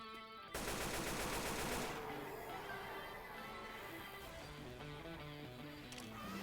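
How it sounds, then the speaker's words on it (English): A pipe bomb detonates in Left 4 Dead 2 with a loud burst, then a long stretch of dense, rattling gunfire and chaotic in-game effects continues behind it. "Good timing on that explosion."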